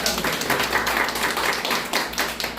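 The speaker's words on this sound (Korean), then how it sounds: "박수" Steady applause from a crowd welcoming a speaker at a lecture event, dense overlapping claps filling the room at a fairly even level throughout.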